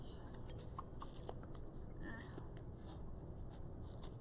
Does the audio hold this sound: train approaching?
no